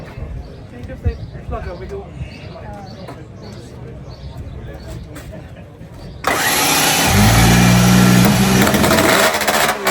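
An exotic two-stroke motorcycle engine fires up after several seconds of people talking and clattering, then settles into a loud, sustained buzzing run close by.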